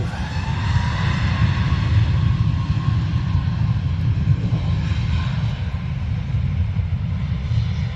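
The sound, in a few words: Icelandair airliner landing at Dublin Airport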